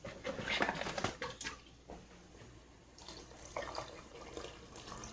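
Water runs from a kitchen tap into a cooking pot holding large pasta shells, a splashing gush at first that eases into a softer, thinner trickle and then picks up again, close by.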